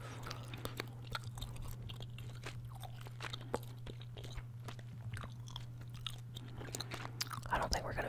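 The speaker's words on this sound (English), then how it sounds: "Some chewing on this side and controller sounds on this side." Close, wet gum chewing with irregular soft clicks and smacks, continuing steadily over a low constant hum.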